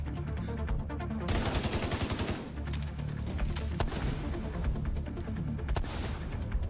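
An UMP submachine gun fires in The Division 2, loud dense automatic bursts rattling almost continuously with brief pauses, layered with other gunfire and impacts in a hectic firefight.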